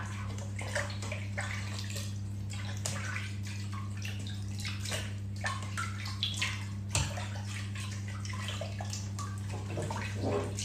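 Running water rinses a herbal kaffir lime scrub off skin, a continuous splashing and trickling over a steady low hum, with intermittent splashes close by.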